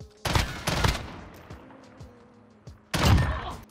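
A gun in Modern Warfare fires a short rapid burst, then smaller impact sounds follow before a second loud burst closes out the moment, all close and punchy.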